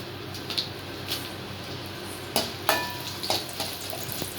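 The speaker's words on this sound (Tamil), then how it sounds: "வரமிளகாயை எண்ணெய் ஊற்றி எண்ணெயில் போட்டு வறுத்து" Dried red chillies fry in oil in a pan, making a soft steady sizzle with scattered light pops and clicks from the spoon, fairly quiet and close.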